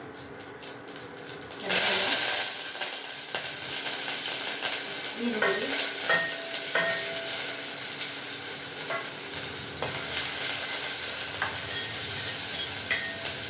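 Tempering for a fenugreek sambar sizzles and crackles in a pan, with steady frying hiss broken by scattered pops and the clink of stirring, and a brief word spoken over it.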